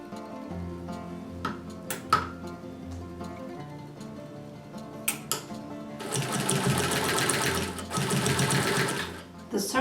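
A vintage Singer sewing machine whirs steadily, stitching strips of old clothes into a rug, running in long loud bursts with brief pauses, with scattered clicks and light taps in between.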